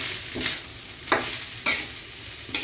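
Vegetables for special noodles are stirred and fried in a pan, a steady close sizzle broken by several sharp scraping strokes of the spatula, with no voices.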